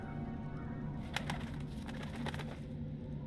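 In the video game Dreamfall: The Longest Journey, a bird coos softly in a short run of repeated low calls over a constant ambient hum.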